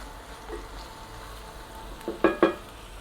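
Meat sizzles as it is stir-fried in a pan, partway cooked, for a quick one-pan pasta dish; a low, steady frying hiss runs throughout, broken near the end by two brief, louder bursts as the pieces are tossed.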